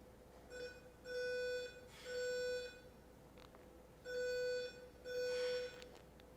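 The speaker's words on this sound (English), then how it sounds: "I'm going to play one of the 2 alarms" A building evacuation alarm plays as a series of four loud electronic tonal blasts in two pairs, each about half a second long, separated by brief gaps and sounding clean against quiet background hiss.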